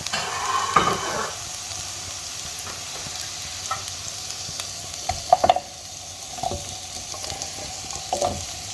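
Seafood sizzles in hot oil in a pan for chop suey, with a steady hiss under scattered clinks and scrapes as a utensil stirs and pushes the pieces about.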